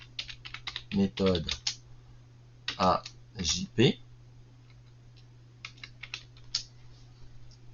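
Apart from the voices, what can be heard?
typing on a computer keyboard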